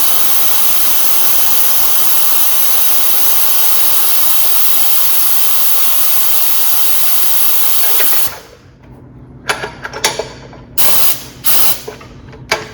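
A Govoni GO325 coil spring compressor runs with a loud, steady hissing, spray-like roar, then cuts off abruptly and gives way to several short mechanical bursts and clunks.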